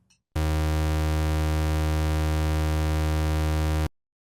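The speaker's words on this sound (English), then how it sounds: "Now here's the pulse wave or square wave." A steady low pulse or square wave from a Moog modular synthesizer oscillator holds at even volume for roughly three and a half seconds, hollow and reedy in tone, then stops cleanly.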